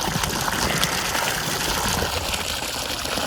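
Water gushes from a running borewell pump on a farm, a loud, steady, continuous rush with no break and no voices.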